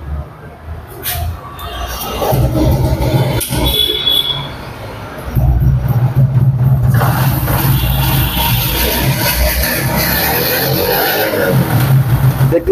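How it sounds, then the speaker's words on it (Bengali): A second-hand TVS XL 100cc motorbike in good condition idles, then revs up twice into a louder sustained engine drone close by, with background noise and no clear speech. "এখন দেখো বাইকটির সাউন্ড।"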